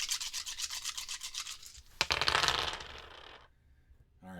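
Many board game dice rattling together, first a rapid clattering shake, then a sharp spill onto a tabletop around the midpoint with a burst of tumbling clicks that settles into quiet; close and fairly loud, no talk.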